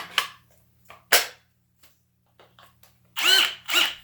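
A DeWALT cordless drywall screw gun with a 1.5 Ah battery fires in several short, close whirring bursts separated by quiet gaps, ending with two louder whining spins.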